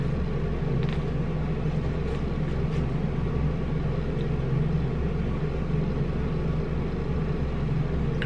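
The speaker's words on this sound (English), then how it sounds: "The noise you hear in the background is the air is on." Steady low hum of an air conditioner running indoors, a constant rumbling drone that fills the background evenly throughout with no talk.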